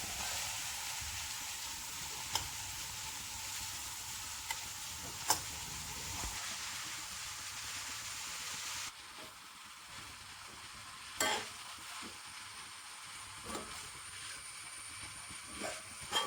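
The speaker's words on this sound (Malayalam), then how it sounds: "ഇപ്പം നെയ്യ് ഒന്ന് ചൂടായി വന്നിട്ടുണ്ട്. നമുക്കിതിലേക്ക് ഇനി നമ്മുടെ ക്യാരറ്റ് ആഡ് ചെയ്ത് കൊടുക്കാം." Grated carrot, four large carrots' worth, frying in hot ghee for carrot halwa, a steady broadband sizzle with intermittent scraping stirs and spatula clinks close by, no voices.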